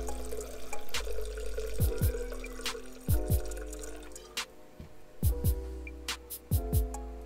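Banana-infused rum is poured into a measuring vessel toward 200 milliliters, a quiet, close trickle broken by scattered drips, splashes and light glassy clicks.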